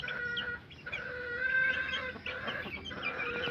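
A young rooster, a baby stag on a gamefowl yard, clucks close by in short, repeated bursts with bright, rising calls at a moderate level; no voices are heard.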